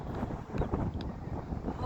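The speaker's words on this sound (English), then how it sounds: "it is so windy. I don't know if you can hear the wind" Wind buffets the microphone beside a river in a steady, rough low rumble that rises and falls in gusts, loud and close throughout.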